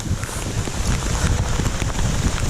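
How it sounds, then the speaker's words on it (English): Heavy rain pours steadily through woodland during an ATV-style ride, a dense continuous hiss and patter with scattered close drops and some wind buffeting, loud and uninterrupted with no talk. "Not sure if you can hear the rain. It's getting heavier and heavier."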